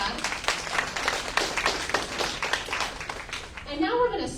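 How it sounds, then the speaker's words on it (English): Audience at a climate justice town hall in Houston applauding a panel, a moderate patter of claps with voices talking over it, fading out near the end. "So round of applause to our panel we just had."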